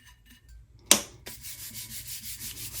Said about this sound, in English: Little burnishing action.